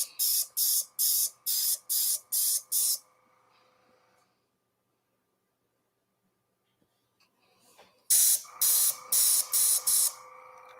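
A sprayer blasts dirt off in short, sharp hissing bursts: a rhythmic run of about six sprays, a quiet pause, then another quick series of similar close, loud hisses.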